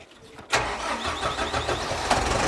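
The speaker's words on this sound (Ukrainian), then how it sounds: "і запускаємо трактор." A 90-horsepower KIY tractor engine cranks and catches abruptly after a slight delay, then settles into a rough, steady running rumble close by.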